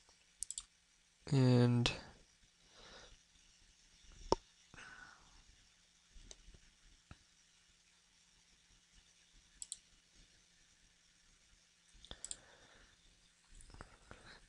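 Computer mouse clicks: sparse, sharp single clicks spread over a quiet background, with a brief spoken word early on.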